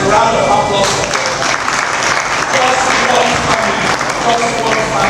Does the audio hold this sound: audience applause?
yes